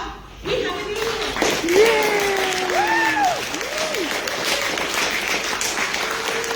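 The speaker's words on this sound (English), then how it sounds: "Everybody clap." A convention panel audience applauds at Everfree NW 2021, a broad wash of clapping that swells and holds steadily, with voices and whoops rising over it.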